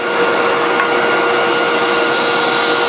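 A vacuum cleaner with a straight suction nozzle and its bristles lowered runs steadily, giving a loud, close, unbroken whooshing roar with a faint whine throughout.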